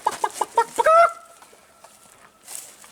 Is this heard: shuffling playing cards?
no